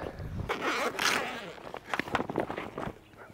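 A zipper is pulled open on a rooftop cargo storage bag, giving a close, scratchy burst followed by several short rasping pulls with a faint voice underneath.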